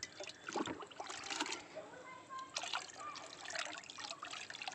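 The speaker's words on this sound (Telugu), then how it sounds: "ఇవి ఐదు లీటర్ వాటర్లో ఒక లీటర్ కలిపి పోస్తానండి మొక్కలకి" Liquid fertilizer trickles and splashes into water in short uneven pours, close and fairly quiet, with a voice talking over it at times.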